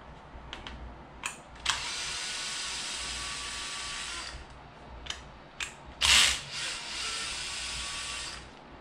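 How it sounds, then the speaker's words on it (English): A cordless screw gun set to its lowest clutch setting backs screws out of the plastic bodywork on a Promoto MX electric dirt bike, several short whirring bursts with clicks and handling noises between them, close up and with no talk. "I have the gun set up on the softest setting just so I'm not stripping screws."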